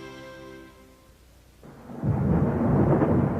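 A rolling rumble of thunder fades out, then steady, fairly loud rain starts suddenly and keeps pouring in a continuous hiss, with no voices.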